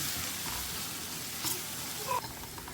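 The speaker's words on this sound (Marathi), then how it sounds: "बरें एका मिक्स करून घ्या" A spoon stirs masala with turmeric, red chilli powder and garam masala in a hot pan. A steady low sizzle runs throughout, with a couple of faint scraping clinks near the end and no talking.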